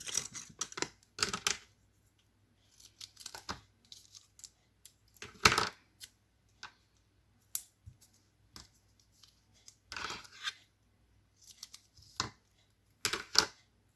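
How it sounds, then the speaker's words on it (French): Scissors snipping paper while a craft tag is made, a sparse series of short crisp cuts and clicks spaced irregularly over quiet background, close and alone with no talking. "Alors, mes ciseaux"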